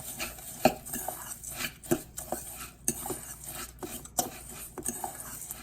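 A spoon stirs chopped ingredients with butter in a casserole dish for crack chicken, giving close irregular scrapes and light clinks against the dish at an uneven rhythm.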